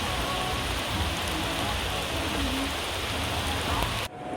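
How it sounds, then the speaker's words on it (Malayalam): Heavy rain on the forest road of the Malakkappara route pours down as a steady, loud, dense hiss that fills the whole stretch before cutting off abruptly near the end. "അതിഗംഭീര മഴ വെച്ചാൽ ഗംഭീര മഴ"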